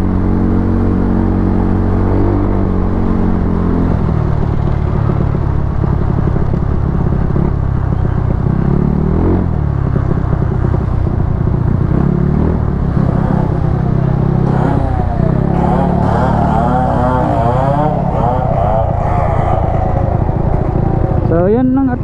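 A Yamaha Mio Soulty scooter fitted with a 59 big valve head rides along continuously, its engine droning and revving under heavy wind rumble.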